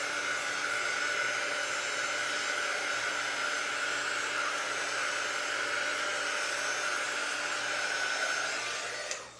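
A hair dryer runs steadily and loudly for the whole stretch, a constant broadband whoosh drying a reverse canvas craft piece, cutting off abruptly at the very end.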